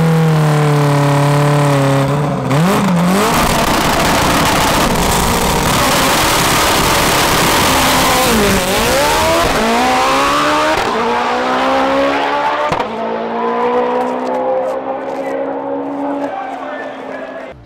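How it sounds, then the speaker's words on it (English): A 1600-horsepower DSM four-cylinder stick-shift drag car makes a full pass, its engine screaming loud and close, revving hard with pitch drops at each gear change before fading away. "that was the sixth full pass that I've made with the car"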